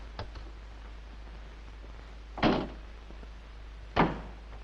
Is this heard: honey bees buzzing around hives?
no